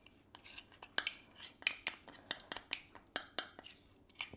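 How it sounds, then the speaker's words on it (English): A soy sauce and honey marinade for pork chops is whisked in a bowl, producing a steady run of quick, close metallic clinks and taps with no talking. "Then what we do is we whisk it all together, then it's ready to go on to the pork chop."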